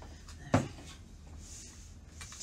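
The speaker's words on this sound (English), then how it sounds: "Let's open this drawer." An office desk drawer is pulled open with a single short thud and slide, close and fairly quiet, followed by faint room noise with no talking.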